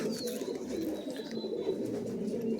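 Giribaj pigeons at a home loft coo in a steady, low, rolling murmur that runs without a break, fairly soft and close, with a faint high chirp near the start.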